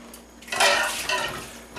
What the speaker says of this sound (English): add your powdered sugar all at once